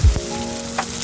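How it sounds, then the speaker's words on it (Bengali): Snake gourd pieces frying in hot mustard oil, a short burst of close sizzling with a soft thump at the start and a faint scrape partway through. "চিচিঙ্গাটা ভেজে নেব।"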